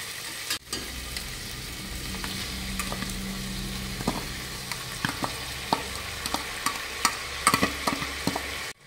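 Washed barnyard millet stirred into potatoes frying in ghee for a fasting pulao, a steady close sizzle under scattered clinks and scrapes of a spoon against the pan, no one speaking.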